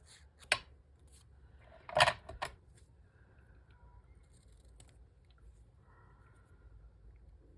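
Scissors cutting paper for a junk journal, a few short crisp snips with a cluster of cuts near the middle, then quiet, no talk.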